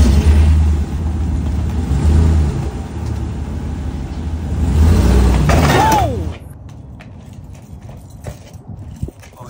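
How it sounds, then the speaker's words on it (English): A Traxxas TRX RC truck drives up loading ramps, a steady loud engine rumble for about six seconds that cuts off abruptly, followed by quieter clicks and handling noises. "boom, just drive right up it"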